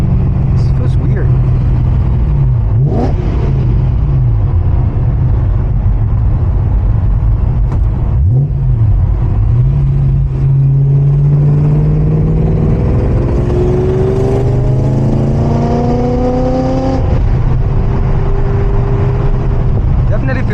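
Supercharged BMW E92 M3 engine droning steadily while driving, with rising and falling pitch sweeps as it revs through gears and a supercharger whine climbing higher, loud and constant throughout.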